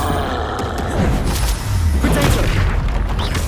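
Deep booming blasts from a Confringo fire spell in Hogwarts Legacy, a loud rumbling explosion that rolls on over the whole stretch with layered crackling impacts.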